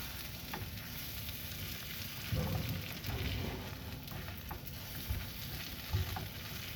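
A BBQ chicken quesadilla with three cheeses toasts in a hot pan, giving a steady, close crackling sizzle with a few soft thuds and shifts beneath it.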